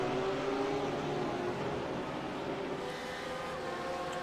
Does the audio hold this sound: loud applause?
no